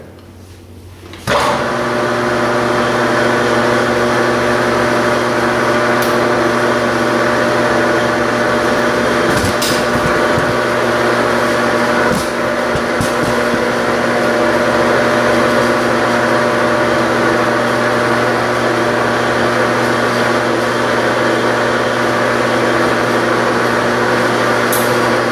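A metal lathe turns a drive shaft at its lowest speed of 70 RPM. After a second of near quiet, a steady, loud motor hum with a faint whine runs without break, with a few light clicks and knocks.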